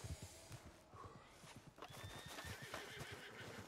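A horse in Red Dead Redemption 2 neighs and whinnies over steady clip-clopping hooves, the sounds close and fairly loud throughout.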